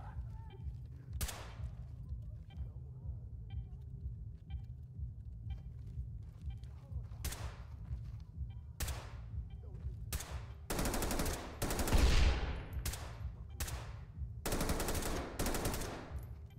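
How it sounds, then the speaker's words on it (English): Rifle fire from .308 rounds in the tactical shooter Ready or Not, sharp loud shots spaced out at first, then clustering into rapid volleys toward the end, heard over a low background rumble. "The insane amount of 308 getting thrown down range."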